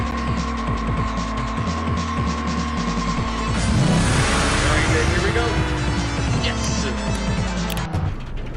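A car engine in the night street-racing game Oxide Racing 3D drones and revs steadily, rising in pitch midway as it accelerates, with a voice talking excitedly over it.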